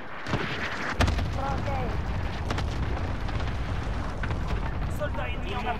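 Heavy explosions from an allied cluster strike in Call of Duty: Modern Warfare rumble in a dense, continuous roar with a sharp blast near the start, while a voice speaks briefly over the din.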